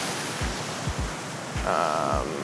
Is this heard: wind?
yes